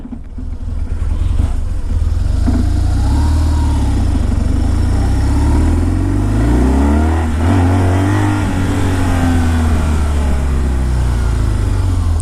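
A 2008 BMW R1200 GS motorcycle accelerates hard into a small wheelie, its loud boxer engine revving up through several rising sweeps and gear changes, close and continuous with no talking.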